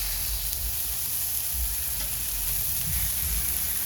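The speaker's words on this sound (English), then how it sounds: "I'm going to sear the edges" Steak edges searing in a hot pan give off a loud, steady, dense sizzle that holds evenly throughout, with no voices.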